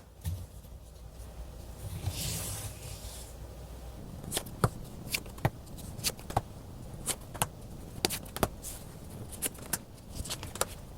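Tarot cards shuffled and drawn during a reading: a soft riffling rush early on, then a run of crisp, close card snaps and taps at irregular intervals over a quiet background.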